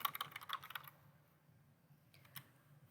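Close, fairly quiet typing on a computer keyboard while entering a spreadsheet formula, with a quick run of key clicks at the start and a short burst near the end.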